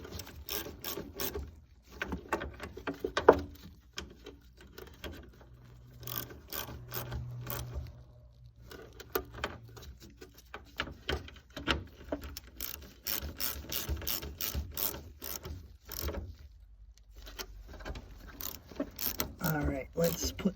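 A ratchet clicks in repeated bursts while tightening fuel pump bolts on a 1988–1991 Honda Prelude, close rapid pawl clatter with short gaps between strokes.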